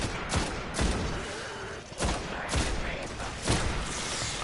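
Video-game gunfire from Destiny, a steady series of sharp shots roughly every half second over dense, noisy combat ambience, close and loud throughout.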